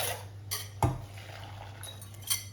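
A metal pan set back down on a stove while making salted butter caramel ice cream, with a few clinking, clattering knocks over a low steady hum, fairly quiet.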